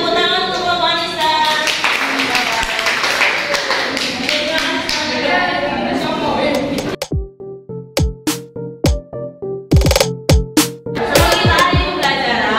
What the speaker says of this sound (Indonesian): Kita beri tepuk tangan untuk kelompok Anissa.